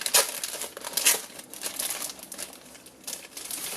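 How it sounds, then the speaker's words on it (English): A 6x12 sheet of red and green foil is handled up close, crackling and crinkling in uneven bursts, louder at the start and again near the end. "Right, so red and green foil."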